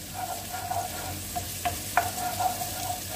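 Onion frying in a pan over a low flame as the base for saffron rice, a soft steady sizzle with a few brief stirring scrapes, fairly quiet and close.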